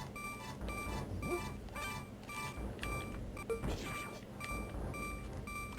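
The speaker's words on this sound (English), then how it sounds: "No, the beeping comes back." Repeating electronic beeps from Zelda: A Link to the Past, the low-health warning-style tone pulsing at a steady rhythm over game music and effects, with no talking.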